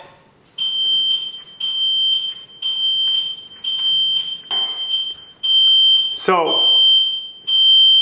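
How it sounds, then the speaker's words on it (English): A home alarm system's laundry-room water sensor alert sounds as a loud, high, steady beep that repeats in regular pulses, then holds longer near the end, with a person briefly speaking over it. "You can hear the alert, so you hear the audio of the alert if you happen to be home."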